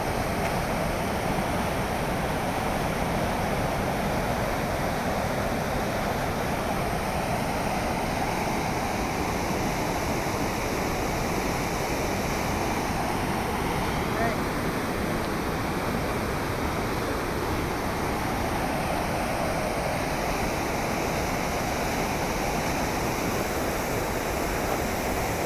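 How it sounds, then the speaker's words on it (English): Firehole Falls in Yellowstone: a waterfall pours with a constant, even rushing roar that stays unchanged from start to finish, no voices over it. "Firehole Falls."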